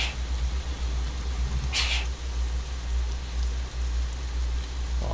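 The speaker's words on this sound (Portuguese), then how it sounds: "Que a chuva ainda tá fraca" Light rain from a realistic rain mod in Euro Truck Simulator 2, a steady even patter with a low engine hum beneath it and one brief high chirp partway through.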